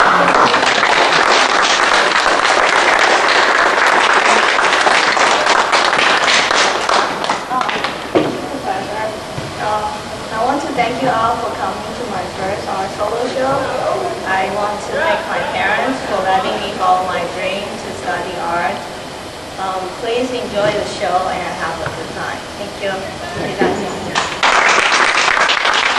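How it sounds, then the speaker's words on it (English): Applause from the audience at a 1998 art show at Whittier College bursts out loudly and densely, then fades into scattered claps beneath murmuring crowd talk before a short final swell. "I ask you for a very healthy applause."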